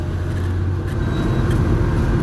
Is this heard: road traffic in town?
yes